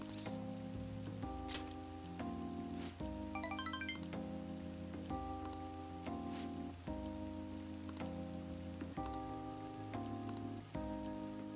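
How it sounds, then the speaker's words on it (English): Steady rain falls in Persona 5 Royal beneath layered game music with sustained tones and soft chimes, a continuous wash of patter running the whole time without any voices. "Rain, huh?"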